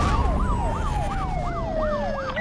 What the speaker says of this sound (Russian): Цель арестована, выключайте сирены.